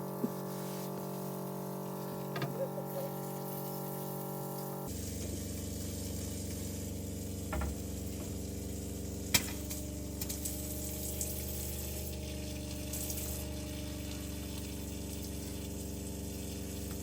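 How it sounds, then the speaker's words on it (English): A camper van's drinking-water pump runs steadily, a continuous mid-level electric hum with water flowing, its tone shifting partway through, with a few faint clicks and knocks and no talk. "Oh, the drinking water's coming out."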